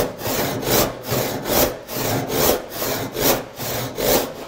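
A hand saw cuts a wooden board for a bench hook in loud, close, rhythmic strokes, about two each second, each a rasping push with a short gap between strokes, heard alone.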